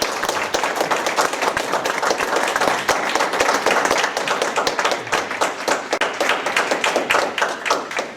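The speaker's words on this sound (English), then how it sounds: "Please join me in welcoming the ambassador with a big applause." Sustained applause from a lecture audience welcoming an ambassador, dense overlapping claps at a steady level for several seconds with no voices.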